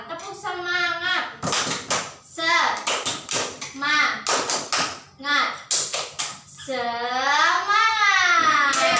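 A schoolroom of young children chants and claps in the rhythmic 'tepuk semangat' routine, voices rising in sing-song bursts between sharp, repeated hand claps, loud and close.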